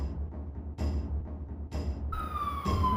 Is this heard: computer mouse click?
no